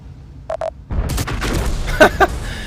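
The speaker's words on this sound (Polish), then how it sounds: "jednoczesny strzał zabija Artę, Arta zabija jego" Tank gun shots boom in World of Tanks during a Type 4 Heavy battle. Two short tones come first, then a burst of heavy blasts and rumbling, with two sharp loud shots near the end.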